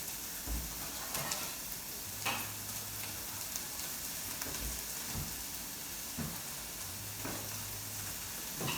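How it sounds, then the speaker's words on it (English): Steady, crackling sizzle of cottage pie ingredients frying in a pot, with occasional soft stirring clunks and no talking. "You hear that sizzling away?"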